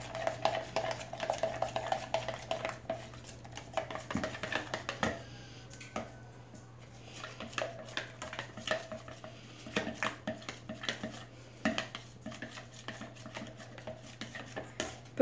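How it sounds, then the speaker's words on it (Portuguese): A spoon scrapes and clinks steadily against a bowl while cornstarch is stirred to dissolve it, a soft, close, busy rhythm of knocks over a low steady hum. "Agora aqui eu vou mexer para dissolver bem."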